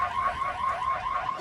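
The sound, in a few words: danger alarm sounding in a film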